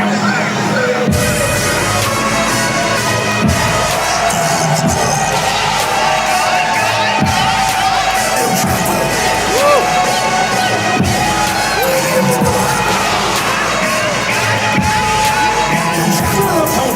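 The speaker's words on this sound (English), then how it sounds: "Listen to this ovation from the tribe." A packed wrestling-show crowd gives a sustained, loud ovation with cheering, yelling and whoops that stays constant throughout, with a commentator's voice over it.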